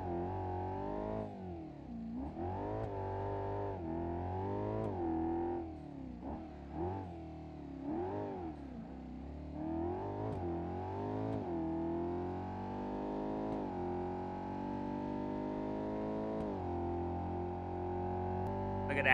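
A truck on its stock engine block with a turbo revs hard at high speed in the video game BeamNG Drive, its loud droning engine note rising and dipping repeatedly, then climbing steadily toward the end.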